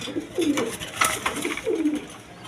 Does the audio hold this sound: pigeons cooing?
yes